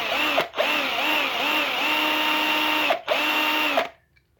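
Power drill boring into a 1:64 diecast car with a 4mm bit, a loud steady whine broken by two brief pauses before stopping near the end, close up and with no talking.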